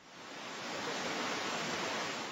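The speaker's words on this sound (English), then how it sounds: "When the water's running and all you hear is the waterfall" Running water falling steadily at the Ground Zero memorial waterfall, a broad, even rushing wash that swells slightly and stays soft and continuous, with no voices.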